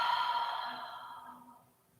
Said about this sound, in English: Take a big inhale. And a big exhale.